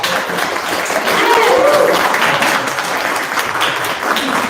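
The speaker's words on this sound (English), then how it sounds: "Let's give a round of applause, y'all." Audience at an evening entrepreneur event gives a sustained round of applause, a thick wash of clapping that swells in the middle and holds steady, with a brief cheer or whistle rising above it.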